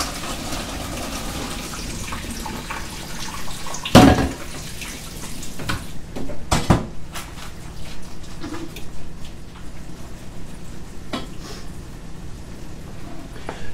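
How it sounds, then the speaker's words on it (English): Kitchen tap running into a sink while pasta is strained, a continuous splashing water stream with a couple of sharp clanks of cookware partway through. "We're going to turn on the water"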